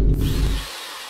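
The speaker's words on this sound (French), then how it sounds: "Tu sais où elle va finir ta perceuse si tu continues de faire des travaux à 6h du mat?" A power drill during home renovation work whirs loudly and close for about half a second, then cuts off and leaves a faint tail.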